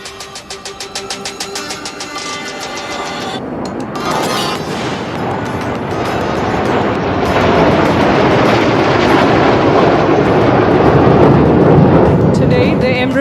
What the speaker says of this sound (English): Is being escorted by 2 Sukhoi 30 MKIs and 2 MiG-29 aircraft.